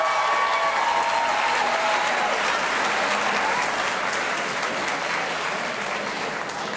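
Sustained audience applause at a senior walk and awards ceremony, a dense, steady wash of many hands clapping that holds loud and even throughout without voices.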